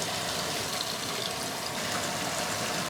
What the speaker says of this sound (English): I'm just gonna fill the jugs.